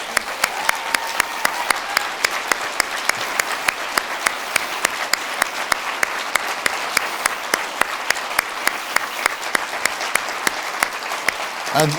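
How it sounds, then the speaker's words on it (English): Audience applause at the Arctic Circle Prize 2022 ceremony, with steady, evenly spaced claps from a nearby hand and a broader crowd behind them, sustained for about twelve seconds with faint voices underneath. "let them give them a great applause"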